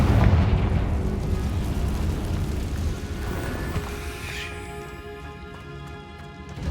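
Confringo spell blast in Hogwarts Legacy, a loud booming explosion that rumbles at the start and decays into a long lingering crackle and ringing tail, with game ambience beneath.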